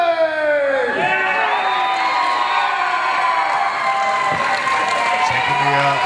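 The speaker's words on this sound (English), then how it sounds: "Taking the applause of the fans there" A wrestling crowd cheering and applauding for the fans' favourite after a takedown, a loud continuous roar of voices and whoops throughout.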